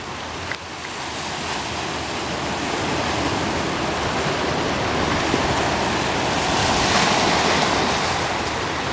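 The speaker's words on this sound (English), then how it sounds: "All these swells, all these massive breaking waves." Large ocean swells break continuously along an island shore, a loud, close roar of surf and rushing water that swells slightly louder toward the end, with some wind buffeting and no speech.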